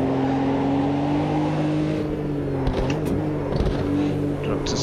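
Ruf CRT Yellowbird flat-six engine in Automobilista 2 held at full throttle, a steady loud droning howl with slight pitch shifts as the car takes bends, no talking over it.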